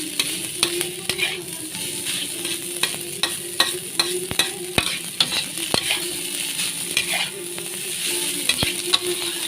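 Fried rice with salted mackerel is stir-fried in a wok: a constant sizzle runs throughout, broken by frequent sharp clacks of a spatula scraping and striking the pan, with no talking.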